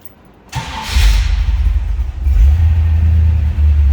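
A 1979 Pontiac Firebird Trans Am T-Top engine cranks briefly, catches with a loud start, then settles into a deep, steady rumbling idle, close and alone.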